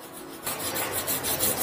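The outer surface of a brake shoe from a Scooter Agility 125 is sanded by hand, a close, steady rasping scrape in quick repeated strokes after a brief quieter start.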